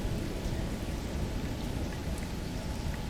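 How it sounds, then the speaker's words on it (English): Rain falling in the video game Space Engineers, a steady, dense hiss of drops on surfaces that is loud and continuous, with a low rumble underneath and no talking. "But here it's raining."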